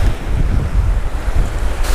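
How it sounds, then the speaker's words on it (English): Strong wind gusts buffet the microphone at a mangrove shoreline during snook fishing, a loud continuous low roar with choppy water noise, no voices heard. "look at how windy it is. It is blowing out here."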